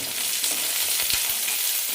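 Chopped green chillies and garlic frying in oil in a pan, a loud, continuous hiss of sizzling close up, with a couple of faint low knocks and no talk.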